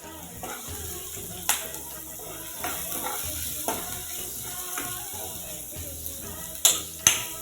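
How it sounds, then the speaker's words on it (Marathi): Finely chopped onion stirred and sautéing in a spoonful of oil in a pan, a steady close sizzle broken by a few sharper knocks of the spoon against the pan. "कांदा मोसर पडेपर्यंत आपल्याला परतून घ्यायचा आहे"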